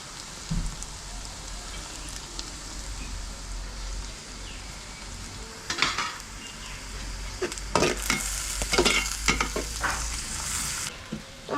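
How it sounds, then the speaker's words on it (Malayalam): Onion sautéing in a pan with chopped ginger and garlic for Kerala-style kappa biryani: a low, steady sizzle broken by several louder bursts of spatula stirring and crackle toward the end, close by with no speech. "സവാള ഒന്ന് വാടിക്കഴിഞ്ഞാൽ നമുക്ക് ഇഞ്ചി വെളുത്തുള്ളി ചെറുതായിട്ട് അരിഞ്ഞത് ഇട്ട് കൊടുക്കാം"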